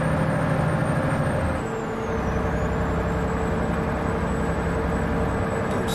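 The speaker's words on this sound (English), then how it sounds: "Yeah, I'm telling you, this truck's struggling." Heavy truck engine in American Truck Simulator labouring under load while hauling a NASCAR trailer, a 435-horsepower rig giving a steady, loud low drone with a faint high whine throughout.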